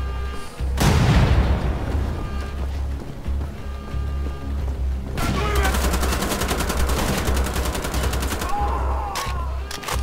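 Sustained automatic gunfire in the shooter game Wolfenstein: The Old Blood, a loud blast opening into a long rapid burst that empties a magazine, dense and close with booming echoes and no talk.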